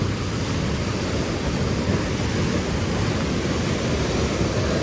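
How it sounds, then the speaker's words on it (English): The South Puyallup River on the Wonderland Trail rushes nearby in a loud, continuous broadband roar of flowing water, unbroken and with no voices. "Just came to this cool looking river."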